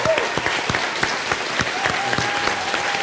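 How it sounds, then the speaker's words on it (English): An audience applauds the candidates after a two-hour mayoral debate. Steady, dense clapping runs throughout, with a few sharper individual claps standing out near the listener. "I want you all to give this a great round of candidates an applause."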